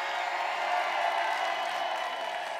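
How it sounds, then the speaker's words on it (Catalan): A crowd applauds at a town festival dinner on the last night of the Festa Major, a steady wash of clapping that holds evenly at a moderate distance with no gaps. "A veure aquests verds, a veure si us sentim aplaudir"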